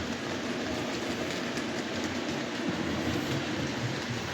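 A model railway 2MT locomotive runs along the track with a steady, close mechanical whirr and a soft rolling clatter of wheels, continuous and even throughout, with no talk.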